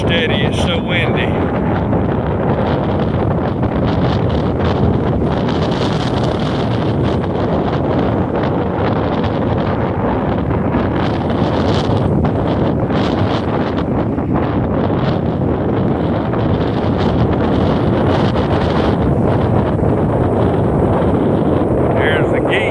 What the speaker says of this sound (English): Can't even hold this camera steady, it's so windy.